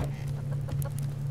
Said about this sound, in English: How are the chickens doing?